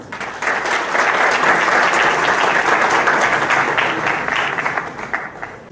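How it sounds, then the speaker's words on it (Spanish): An audience breaks into strong, sustained applause to welcome Dr. Diego Zalamea León at a lecture, a dense roar of many hands swelling quickly and holding steady before tapering off near the end. "Demos la bienvenida con un fuerte aplauso."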